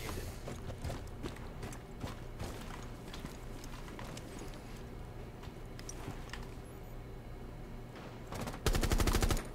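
Rapid gunfire in Rainbow Six Siege: bursts of sharp shots crackle over steady background noise, ending in a loud, dense close-range volley.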